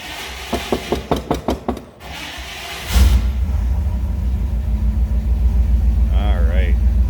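A 1957 Chevrolet Bel Air convertible with a 283 V8 cranks with a rapid series of starter pulses, catches after a short pause, then settles into a loud, steady low rumble at idle, with a brief voice-like sound near the end.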